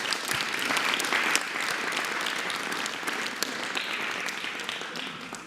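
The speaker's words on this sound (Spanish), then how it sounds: "un aplauso para las maestras y los maestros" Sustained audience applause for teachers at a Mexican presidential press conference, a dense, even wash of many hands clapping at moderate distance with no talk over it.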